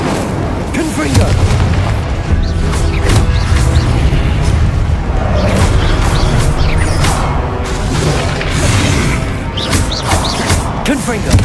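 Repeated booming Confringo blasting spell explosions in Hogwarts Legacy combat, heavy thuds and crashes one after another, with a voice speaking throughout.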